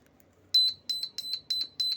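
A homemade piezo buzzer circuit bursts into a fast run of short, shrill beeps, pulsing in quick pairs after a half-second of near silence, loud and close.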